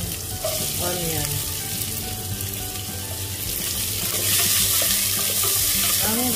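Onion hits hot oil in a pot with a loud, steady sizzle and crackle that swells near the end. The dish is beef stew (nilagang baka) with ginger already cooking.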